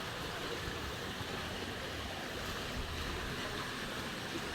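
Strong irrigation water flowing from a stream past rice fields, a continuous broad rushing roar, steady and close with no pauses or voices.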